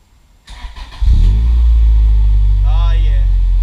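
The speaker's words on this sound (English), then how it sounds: "this is what a Tanabe medallion exhaust sounds like on an Integra" Acura Integra GSR with a Tanabe Medallion exhaust cranks and fires up, then settles into a loud, steady idle close by, with a slight rise in revs partway through.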